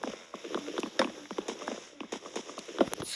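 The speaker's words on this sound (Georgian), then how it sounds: "ცხენი." Horse hooves clip-clop in a quick uneven run of sharp knocks, close and moderately quiet, with a brief murmur of voice.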